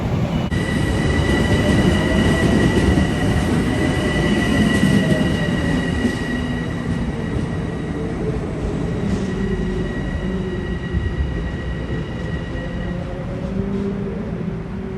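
A train rumbles past close by in New York on a cold day, wheels grinding and squealing steadily on the rails for the whole stretch, loud and continuous.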